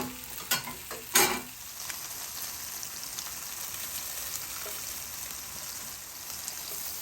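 Garlic frying in a pan for a home-cooked lunch, a steady close sizzle throughout with a couple of sharp crackling bursts near the start, then an even hiss.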